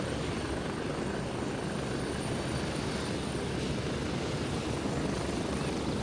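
Helicopter flying in the military shooter game Gray Zone Warfare, a steady loud rotor and engine drone that holds evenly throughout with no pauses or talk.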